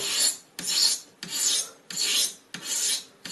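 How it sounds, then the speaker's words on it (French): Rhythmic, harsh rasping strokes as the back of a hacksaw blade scrapes a hard carbon fishing rod, about five even passes, close and loud with no talking. "on attaque vraiment avec l'angle ici d'une dos de lame de scie à métaux"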